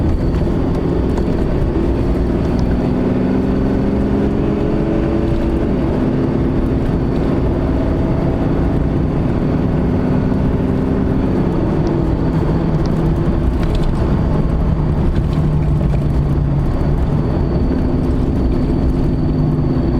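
A 2015 Ram pickup's 6.7 Cummins diesel engine drones loudly and continuously while driving in tow haul mode, with a steady low rumble and shifting tones throughout.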